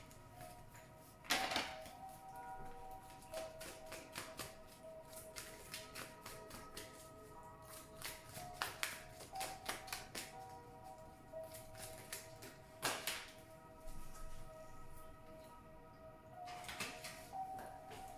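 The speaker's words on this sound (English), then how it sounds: "as I shuffle the cards" A deck of cards is shuffled by hand at close range, with repeated soft taps, clicks and sliding sounds in an irregular rhythm and no talking.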